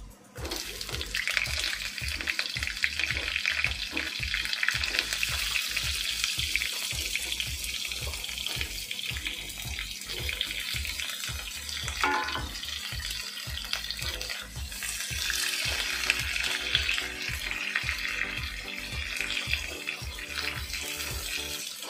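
Pointed gourd pieces frying with nigella seeds in a pan, a steady hissing sizzle broken by rapid scraping stir strokes throughout, close and fairly quiet.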